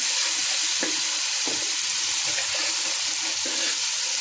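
Chicken liver sautéing with ginger-garlic paste in oil over a medium gas flame, a loud, steady sizzle close by with a few soft stirring knocks and no talking.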